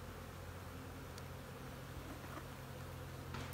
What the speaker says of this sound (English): there's so many bees